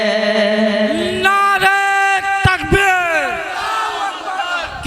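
A large crowd at a naat mushaira poetry gathering shouts a loud, unified chant in response to a leader's call, voices rising together in harmonic swells and falling away over several seconds.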